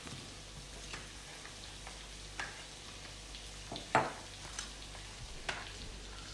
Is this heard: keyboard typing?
no